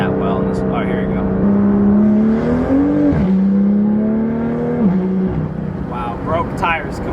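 Porsche GT4 pulling hard in second gear, engine droning loud and rising in pitch with a brief drop at a shift, tires breaking loose; people talk over it.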